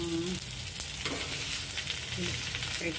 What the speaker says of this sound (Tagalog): Ihaw habang wala pa siyang mantika.